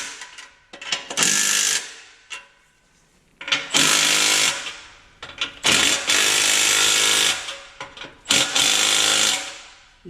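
An impact wrench tightening exhaust bolts fires in four loud, rattling bursts of one to two seconds each, separated by short pauses with faint clicks.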